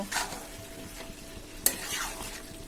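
A potato curry with ground spice paste sautés in a pan after a splash of water, giving a crackling sizzle with stirring scrapes and one sharp utensil clack near the middle.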